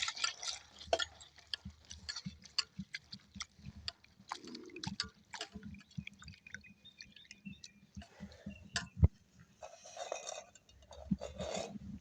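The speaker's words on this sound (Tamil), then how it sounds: "அவலை நாங்கள் கழுவி எடுக்க போகிறோம்" Flattened rice (aval) is washed in water in a village-style kitchen ahead of making aval vada, with intermittent splashes, drips and light clinks of the vessel, close and fairly quiet.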